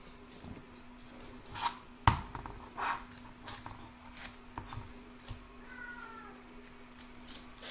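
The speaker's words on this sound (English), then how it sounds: "Oh, my cat's whining." A house cat whines in several short, faint meows near someone doing machine embroidery on fabric, with soft handling noises and a sharp knock in between.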